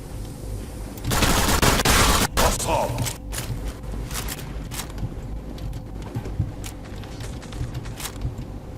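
Gunfire in the Turkish-made video game Zula: a loud burst of rapid automatic shots early on, then scattered single shots and thuds over a steady game background.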